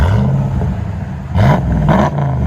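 A deep, throaty straight-piped RAM Power Wagon 6.4L HEMI V8 idles loudly, then revs twice in short rising bursts, each roar climbing in pitch before dropping back.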